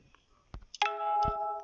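A loud electronic notification chime plays in the Good Pizza, Great Pizza game, a bright tone that holds for about a second after a couple of short clicks, with no talk over it.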